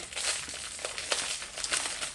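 Close crinkling and crackling of a plastic Temu packet being handled and pulled at while someone struggles to open it, with irregular bursts of rustle.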